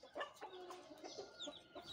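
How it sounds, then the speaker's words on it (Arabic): Rooster on a farm giving a run of quick, close clucks, several short calls in uneven rhythm, alone with no talk. "بعد ما طلعنا الديك فزاع زي ما شايفين"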